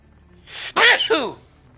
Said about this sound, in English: I'm gonna sneeze, guys, hold on.